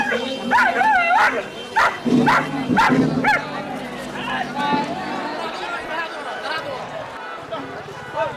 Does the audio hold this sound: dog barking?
yes